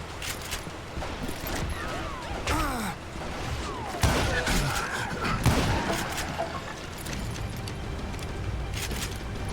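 Gunfire rings out in the Western shooter Call of Juarez: Gunslinger as a rifle fires a few distant, echoing shots over a busy game soundscape with groans and a low background rumble.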